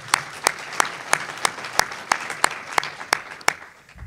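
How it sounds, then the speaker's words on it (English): An audience at a community talk on food and farming in the Rogue Valley claps, steady rhythmic applause with sharp evenly spaced claps standing out, fairly close, ending abruptly after about four seconds. "Can we give him another round of applause?"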